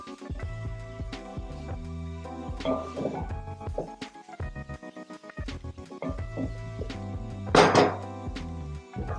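A spoon stirs garlic around in a pot on the stove as a tomato sauce for spaghetti gets started, giving irregular scrapes and clinks against the metal with a louder clatter near the end, alongside steady kitchen hum.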